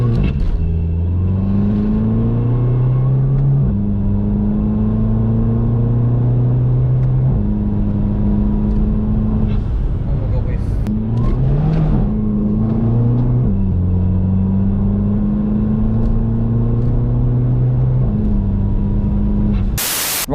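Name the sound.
Volkswagen Scirocco car driving and revving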